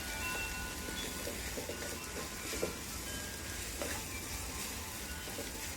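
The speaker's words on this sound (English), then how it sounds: "So we're just gonna wait for this to fry off" Food frying in hot oil in a pan for Nepalese-style chicken curry, a steady, moderately faint sizzle and crackle that continues evenly throughout.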